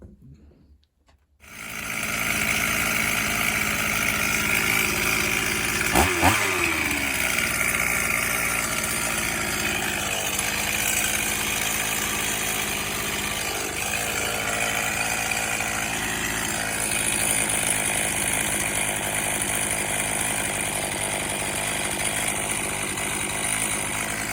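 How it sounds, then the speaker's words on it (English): A STIHL MS440 chainsaw fires up after a short quiet moment and runs loudly and steadily, close by, its engine holding a rough, constant drone with slight shifts in speed as it settles toward idle for the rest of the time. "So that thing started probably on the 5th or 6th pull with choke."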